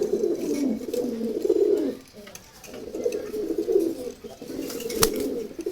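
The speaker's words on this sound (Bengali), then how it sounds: "অসাধারণ একটা নর কবুতর ঘিয়াচুল্লিটা" A male Ghiya Chulli pigeon coos in a low, throaty, rolling rhythm, close by. Two long bursts are separated by a short pause, with faint background noise and no talking.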